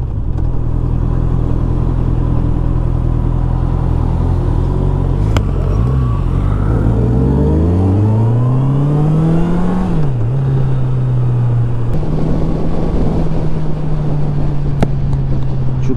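A Honda car driving through Berlin city streets toward the Bundestag, its engine humming steadily up close, then rising and falling as it accelerates and shifts, with constant road and traffic noise around it.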